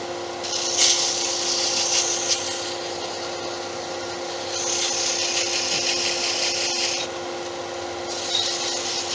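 Sandpaper rubbing against a spinning wooden snowman on a wood lathe, giving steady rasping bursts in three long passes with brief pauses between them.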